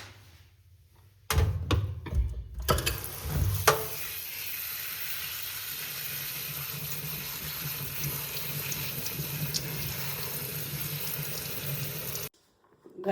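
Food is rinsed under a running kitchen tap: a few clattering splashes at first, then a steady, close rush of water pouring for about ten seconds before it abruptly stops.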